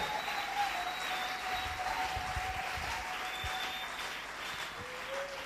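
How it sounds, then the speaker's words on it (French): A church congregation applauds at a French-speaking worship gathering, a steady wash of clapping from many hands that holds at moderate loudness with no break, while a faint tone sustains beneath it. "Acclamons très fort."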